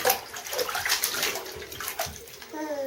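Water sloshes and splashes in a bathtub during a bath, with irregular nearby splashes and a running-water hiss, under intermittent talking.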